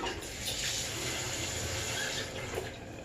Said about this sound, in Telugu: ఇట్లా వేసుకొని వాటర్ వేసేసి క్లీన్ చేసుకోవాలి